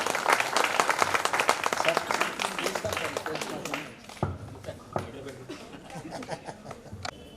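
An audience at a school alumni reunion claps for a former teacher, dense applause that starts strong, then thins into scattered claps with a few laughs and voices underneath.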